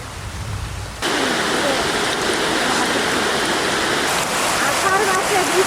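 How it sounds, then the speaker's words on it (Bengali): Steady rain falls outdoors in a village cooking setting during the monsoon, a dense, even hiss that swells suddenly after the first second and continues loudly without any speech over it. "এদিকে বৃষ্টি নামিয়ে গেছে"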